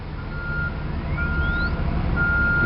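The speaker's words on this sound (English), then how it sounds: "you can hear the speaker, you can hear the frequency sweep" Megger HT1000 copper line tester running a frequency sweep while checking for load coils: a thin steady tone that steps up and glides higher in pitch through a loudspeaker, over a constant broadband hiss.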